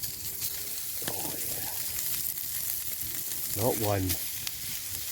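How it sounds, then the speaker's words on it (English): Burgers sizzle in hot oil over a campfire while wild camping in Scotland woods, with a steady frying hiss and short bursts of louder crackling as patties go in, and a brief word spoken nearby. "Ready for that sizzle, folks?"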